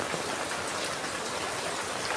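Steady, even rain hissing down across the whole stretch, a dense wash of drops pattering on surfaces with no voices.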